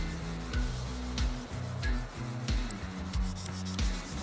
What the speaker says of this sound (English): When I'm hand sanding this blade,